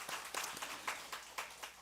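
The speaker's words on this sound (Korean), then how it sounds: "우리 청소년들을 위해서 다시 한번 박수 한번 쳐주세요" A church congregation at a Sunday service applauding the youth group, a short burst of soft, scattered clapping heard from a distance, with no talk over it.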